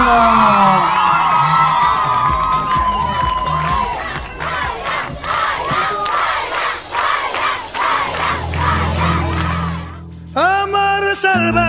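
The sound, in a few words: audience applause and cheering welcoming a singer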